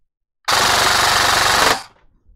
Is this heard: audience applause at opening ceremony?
no